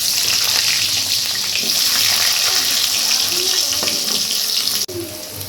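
Potato pieces frying in a pan of oil for a vegetarian soybean dish, a loud continuous sizzle with a brief clatter near the end.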